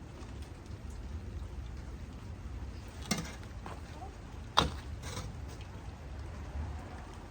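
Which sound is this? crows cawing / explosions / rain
rain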